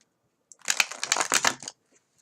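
A single close riffle shuffle of a deck of cards during a tarot reading: a quiet, fluttering run of rapid card snaps lasting about a second, alone in a silent room.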